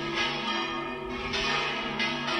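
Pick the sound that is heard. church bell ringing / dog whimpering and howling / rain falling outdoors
church bell ringing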